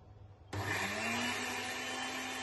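A kitchen blender jar starts abruptly and runs at a loud, steady whir while mixing a cup of oil with ground sugar for cake batter, with no talking over it.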